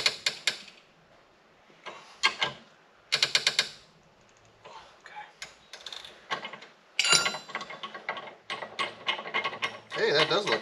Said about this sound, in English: So let's cut this nut off of here.